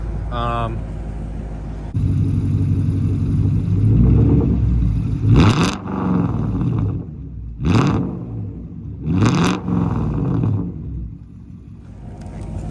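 A Mercedes R129 SL500 with the 5.0 M119 V8 and an AMG muffler revs in several sharp, loud bursts with a raspy exhaust note between lower idle rumble, while someone talks over it.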